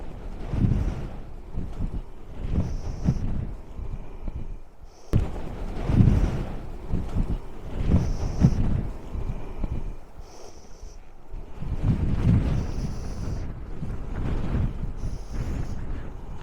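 Strong gusting wind on a fell hilltop buffets the microphone in loud, rough surges with brief lulls between blasts, no voices present.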